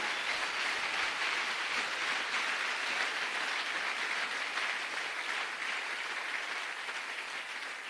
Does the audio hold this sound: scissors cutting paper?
no